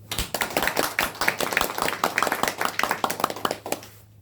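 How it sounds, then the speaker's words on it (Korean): A church congregation claps hands in a loose, rapid rhythm during an afternoon worship service, a dense run of sharp claps lasting several seconds before fading out. "박수도 우리 장로님처럼 그렇게 쳐야 돼요"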